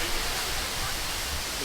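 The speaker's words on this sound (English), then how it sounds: "Stand close by to a waterfall." A large waterfall in Java, Indonesia, heard from close by as a steady, dense rushing roar of falling water filling the short stretch evenly.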